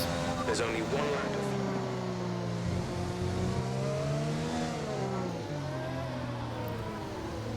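A Honda-powered Formula 1 car engine in the F1 2020 racing game, holding a loud, steady high-pitched whine that rises and falls with shifting pitch throughout, with commentary spoken over it.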